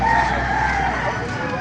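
Roosters crowing and chickens clucking at a busy poultry market in Baliuag, Bulacan, a loud, steady layered din of fowl calls filling the whole moment with faint human chatter underneath.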